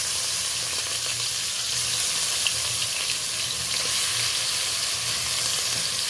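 Grated onion frying in spiced oil, a steady close sizzle with a faint low hum underneath, continuous and even throughout with no talking.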